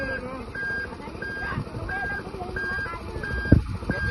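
Steady reversing alarm beeps at an even rhythm from a truck backing up, with a voice speaking over the tones and a couple of sharp knocks near the end.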